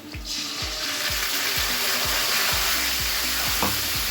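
Whole cumin seeds and a ground spice paste sizzle steadily in hot oil, a close, continuous frying hiss with repeated soft stirring scrapes and knocks throughout, no talking.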